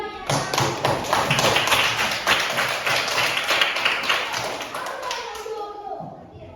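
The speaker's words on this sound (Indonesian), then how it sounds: "Tepuk tangan dulu ya untuk adiknya yang berani" A classroom audience of students claps for a brave young pupil, a dense patter of many hands running steadily for several seconds before fading, with children's voices mixed in.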